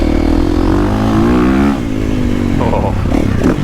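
A 2023 KTM 450SXF motocross bike's engine revs hard and continuously during a ride, loud and close throughout with rising and falling pitch.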